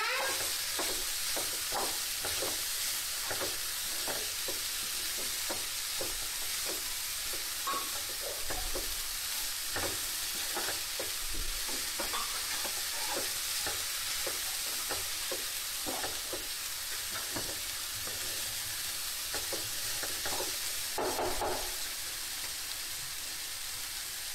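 Two large onions frying in a pan, a constant dense sizzle like rain with frequent scraping stir strokes at a steady pace, close and without speech.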